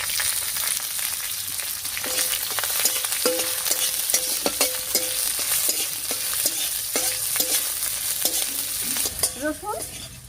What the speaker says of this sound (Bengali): রসুন আর কাঁচা লঙ্কাটা বেশ ভাজা ভাজা মতো হয়ে গেছে